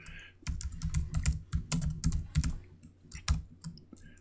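Code being typed on a computer keyboard, with close, crisp keystroke clicks in quick irregular bursts and short pauses between runs.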